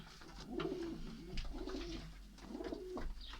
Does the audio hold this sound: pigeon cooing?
yes